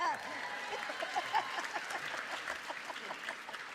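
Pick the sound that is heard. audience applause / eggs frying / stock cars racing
audience applause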